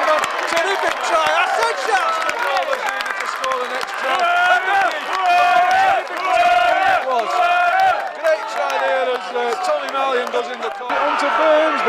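A partisan home crowd roars and chants continuously at a BARLA National Cup semi-final rugby league match, loud and sustained, with a commentator talking over the noise.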